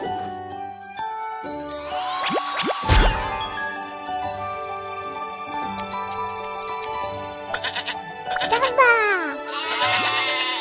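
A sheep bleats several times in a cheerful children's cartoon song about zoo animals, with the calls mixed in among jingling bells, chimes and a singing voice over bouncy music.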